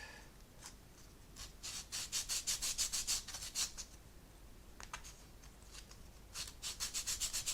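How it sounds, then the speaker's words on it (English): A plastic model kit surface of an XB-70 Valkyrie is sanded by hand in short bursts of brisk back-and-forth rubbing strokes, close and clear with pauses between sets. "I think it may be a good idea to sand this whole surface down"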